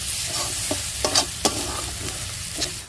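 Chopped onion, garlic paste, ginger paste, chopped tomato and spices sizzling in a pan for Bengali kosha mangsho, a dense continuous fry with intermittent spatula scrapes and clinks, close-up and moderately loud without voices.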